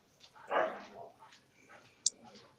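A dog gives one loud, close bark, then a few softer whines, then a sharp, brief high-pitched yip, with no talking.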